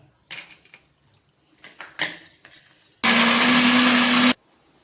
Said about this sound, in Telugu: నెక్స్ట్ ఎల్లుల్లిపాయలు రుచికి సరిపడి ఉప్పు వేసుకొని మిక్సీ పట్టేసుకుందాం